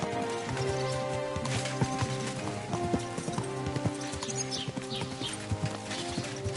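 Horse hooves clip-clopping steadily on the ground in Kingdom Come: Deliverance II, a medieval setting, with a tonal music bed running underneath and a faint whinny-like sound partway through.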